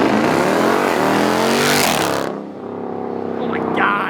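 A McLaren at a car show pulls away hard, a loud and close engine note rising in pitch for about two seconds, then dropping off sharply and building again as it moves away.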